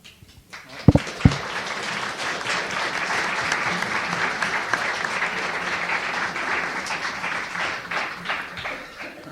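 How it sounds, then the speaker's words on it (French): Audience at a sociology conference breaks into sustained applause, opening with a couple of sharp louder claps and then settling into a steady, even wash of many hands clapping for several seconds. "J'allais justement dire que ça méritait des applaudissements."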